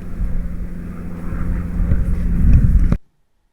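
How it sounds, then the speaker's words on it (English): A fixed-wing airplane roars past overhead, a steady broadband engine rumble that swells louder toward the end and then cuts off abruptly; no voices. "the end part here where the aeroplane comes past"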